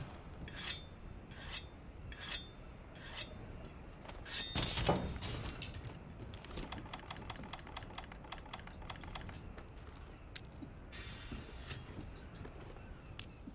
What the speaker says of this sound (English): Well, let's sharpen.